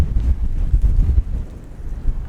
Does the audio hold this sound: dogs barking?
no